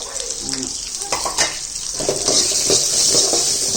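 Chicken with ginger and garlic fries loudly in a pan for a Chettinad-style gravy, with a bright, close sizzle that swells as scattered stirring scrapes and clinks sound over it.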